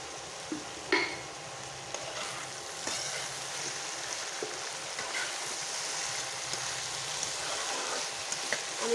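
Kachchi fish and taro stems frying in oil, a steady moderate sizzle with occasional stirring scrapes and soft knocks of the spatula against the pan, with no voices.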